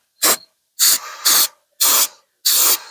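Carb cleaner aerosol sprays during bumper and frame rail prep for an accident repair. Five short, sharp hissing bursts come close and loud, evenly spaced with quiet gaps between them, and no one speaks.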